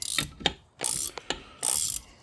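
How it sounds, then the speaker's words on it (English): A ratcheting combination wrench clicks up close in three or four quick bursts of rapid, sharp ratchet clicks separated by short pauses, with no talking. "This particular combo wrench set is actually a ratcheting combo wrench set."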